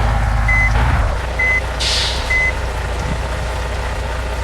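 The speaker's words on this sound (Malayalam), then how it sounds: "നമുക്ക് പതുക്കെ ബാക്ക് എടുത്ത് പോവാം" In the Bus Simulator Indonesia game, a modded bus reverses slowly with its reversing alarm on: three evenly spaced, clear electronic beeps over a low, droning engine hum, with a brief hiss midway.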